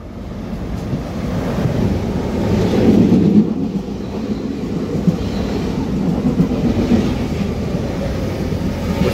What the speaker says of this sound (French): Attention au passage d'un train.